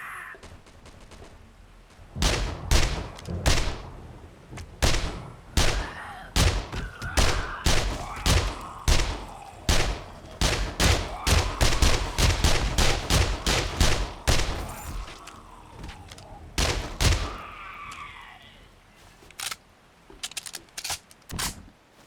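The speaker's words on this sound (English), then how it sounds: "Pump shotgun." Pump shotgun blasts in the survival video game 7 Days to Die, a rapid run of sharp, loud reports fired in quick succession with pump racks between, nearly continuous through the middle and tapering off near the end.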